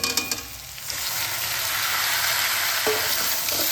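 Chopped cauliflower frying with onion in a pan, giving a loud, continuous close sizzle with a brief stir at the start and no talk.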